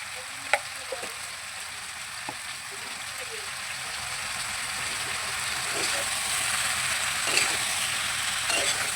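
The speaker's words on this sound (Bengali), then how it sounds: "লাল করে একটু ভাজবো" Onion, pumpkin and potato frying in a pan for a tangy Medinipur-style chachchari, a steady close sizzle with a few sharp stirring clicks; voices murmur faintly underneath.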